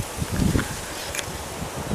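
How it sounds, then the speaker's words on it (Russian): Gusty wind buffeting the microphone on a stormy seashore, a rough, fairly steady rush with brief louder swells and no voices. "Так что, видите, здесь ветер,"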